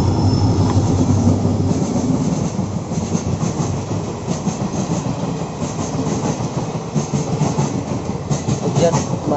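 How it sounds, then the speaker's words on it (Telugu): A train rolls past some distance from a house, a steady rumbling roar with rail clatter holding at an even level throughout, with no talk over it. "మా ఇంటి దగ్గర ట్రైన్ వెళ్తుంది దూరం సార్"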